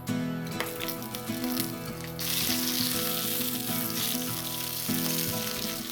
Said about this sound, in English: So now that the oil is heated, let's add our baby spinach, which is pre-washed.